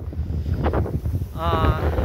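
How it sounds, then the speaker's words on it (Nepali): Strong wind by the sea buffets the microphone with a steady low roar, and a voice speaks over it. "चिसो हावा चलिरहेछ"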